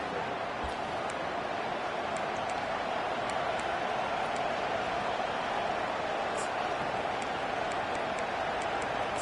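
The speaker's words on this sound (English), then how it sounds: "Decibels rising as the crowd gets behind this defense on third down." Stadium crowd at a Jacksonville State football game on third down, a steady broad roar that holds loud and dense throughout, with faint applause and scattered shouts on top.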